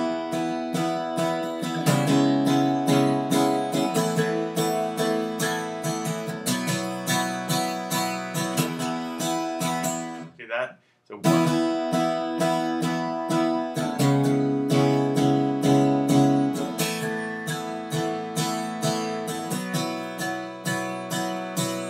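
Acoustic guitar strummed in 6/8 with repeated upstrokes on every beat but the first, a bright rhythmic pattern played close and steady, briefly pausing in the middle before resuming.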